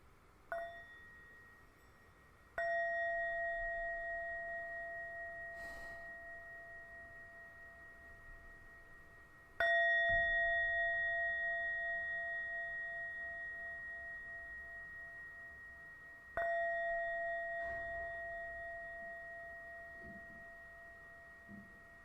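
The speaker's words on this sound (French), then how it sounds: "Je vais sonner la cloche à 3 reprises." Meditation bell struck three times, each clear ringing tone sounding alone and slowly decaying into quiet before the next strike.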